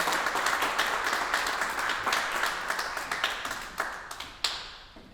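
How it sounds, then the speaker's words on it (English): Symposium audience clapping for a panel, individual claps audible in a lively burst that thins out and fades toward the end, with a few last isolated claps. "Please give a round of applause for our panel."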